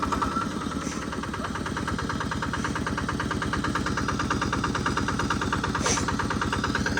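An engine-driven water suction pump runs steadily, a continuous mid-to-low idling chug with a fast, even knocking pulse that holds throughout at close range, with no talk.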